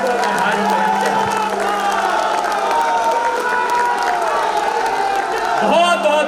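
At an election rally, an audience cheers and claps as a broad, steady crowd roar under someone speaking loudly into a microphone.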